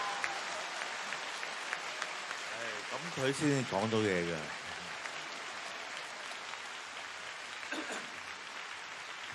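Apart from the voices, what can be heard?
audience clapping at a live concert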